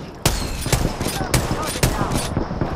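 Gun firing in the video game Apex Legends, a series of loud, sharp shots spaced roughly every half second, close and punchy, with a brief muffled voice in the mix.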